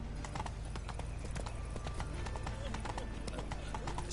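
A horse gallops in the video game Witcher 3, its hooves beating a steady, rapid clip-clop over a dense bed of game ambience and music.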